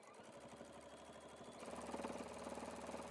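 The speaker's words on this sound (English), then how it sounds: "I'm just going to back stitch beyond the pocket" A sewing machine back stitches beyond a pocket on a quilted hoodie, a faint steady mechanical hum that quickens and grows slightly louder partway through.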